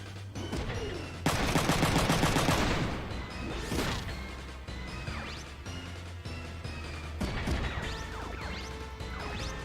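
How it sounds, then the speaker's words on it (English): Rapid bursts of machine gun fire from the video game Front Mission 3, loud and dense, with crashing impacts and whooshes between volleys and a steady low game hum underneath. "machine gun"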